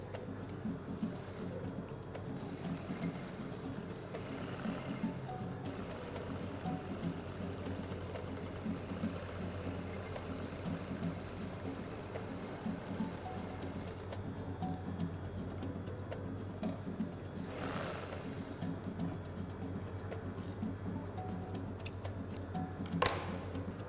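A sewing machine stitches a fabric shopping bag handle with a steady, soft mechanical ticking hum that keeps running close by, alone and fairly quiet throughout.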